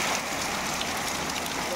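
Rain falls in the hills as a steady, dense hiss of drops, close and even throughout, with no other clear sound.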